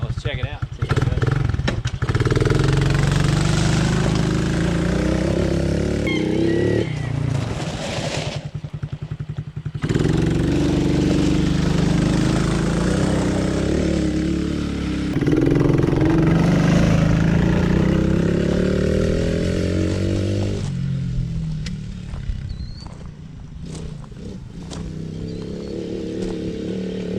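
A Coleman AT125UT ATV's small engine revs and putters through a test drive, rising and falling with throttle, with a brief cutout and clattering bumps, while someone talks over it.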